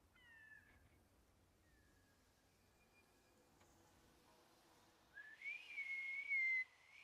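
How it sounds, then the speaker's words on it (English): Whistling to call foals in the video game Ghost of Yotei, a few faint thin whistle tones early, then a louder sustained whistle near the end in a quiet scene. "Maybe if you try whistling."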